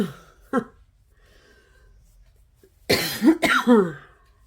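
A few harsh coughs close to the microphone, one short one early, then a burst of three or four in quick succession after a quiet pause.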